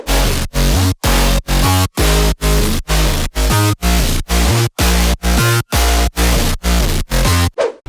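Aggressive future house drop bass with growls and stabs layered together pumps in steady, evenly spaced bursts with short silences between hits, dense, loud and distorted, with no speech.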